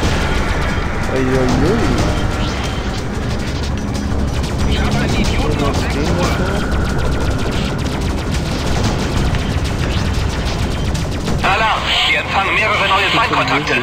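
Spaceship weapons fire in the space-combat game Freelancer, a dense rapid barrage of shots mixed with game sound and music, while a voice speaks over it throughout.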